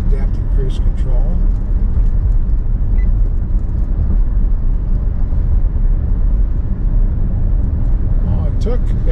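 A 2023 Nissan Armada Platinum V8 climbs a mountain grade at 4,000 RPM while towing 8,000 lbs, a loud continuous engine roar with heavy road and wind rumble, steady and close, with brief faint voices.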